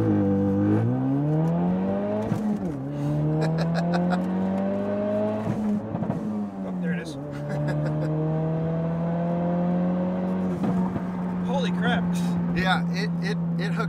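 A Ford Focus RS launches under launch control and accelerates hard, its engine note rising steadily through the gears with short dips at each shift, loud and close from inside the cabin.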